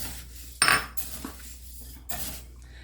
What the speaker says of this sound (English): I'm just going to combine all this and mix it up before I mill